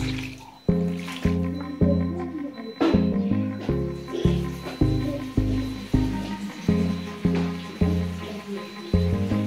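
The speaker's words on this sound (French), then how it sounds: "ici vous mettez l'eau à votre convenance et surtout selon la quantité de vos arachides" Water is poured in repeated splashing glugs into a pot of peanuts being cooked for a mashed banana and peanut dish, each pour a short, resonant gurgle in an uneven rhythm, close and fairly loud.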